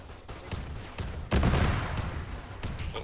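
Heavy gunfire in ARMA 3 combat, a dense roar of shots and blasts that swells sharply partway through and stays loud, with scattered cracks before and after.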